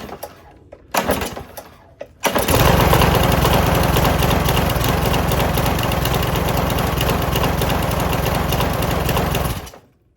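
A gas lawn mower engine running on diesel fuel starts after a few brief knocks, then roars loud and steady at close range for several seconds before cutting off abruptly.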